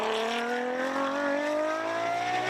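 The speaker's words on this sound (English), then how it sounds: "Fantastic 6-litre V12 engine." A Ferrari 599 FXX with a 6-litre V12 at a motorsport festival in Adelaide, its engine note loud and steady, a rich high-pitched wail rising gradually as the car goes past.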